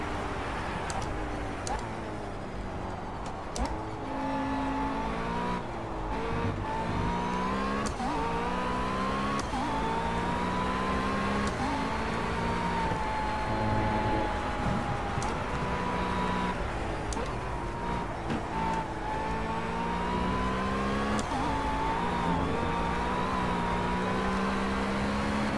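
Race car engine in the racing game Project Cars, a loud continuous droning whine that climbs and drops with repeated gear changes and shifts in revs, steady and close throughout.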